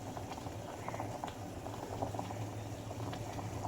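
Thick sugar syrup bubbling steadily in a pan, a dense continuous boil with soft popping, close and moderately loud.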